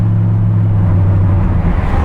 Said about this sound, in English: This exhaust, that I think it's actually louder in the car than the old exhaust was